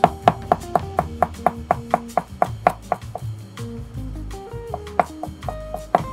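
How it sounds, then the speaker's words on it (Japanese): A chef's knife minces ten-year aged dried tangerine peel (chenpi) on a cutting board, a quick, steady run of crisp chops that loosens into scattered taps, with soft music playing underneath. "みじん切りにしていきます。"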